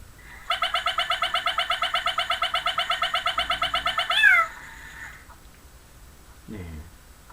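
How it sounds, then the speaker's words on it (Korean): An Arduino-controlled hoist plays an electronic cat-meow effect as it goes up: a rapid train of about thirty bright beeping pulses lasting roughly four seconds, ending in a sliding tone, followed by faint low mechanical sounds. "올라갈 때 고양이 소리 나는지 한번 확인해 볼까요?"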